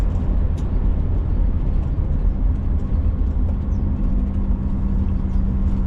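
A 1965 Ford Mustang convertible with a 289 V8 and automatic transmission on a test drive gives a steady, continuous low engine and road rumble from inside the car, with no talking.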